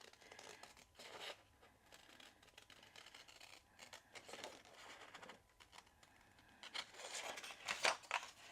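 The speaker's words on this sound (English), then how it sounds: "so that I can get the scissors in a bit easier without damaging the other sentiments" Scissors cut through a papercraft piece while working around stamped sentiments, giving soft crisp snips and crinkling paper handling, with a louder burst of cutting near the end.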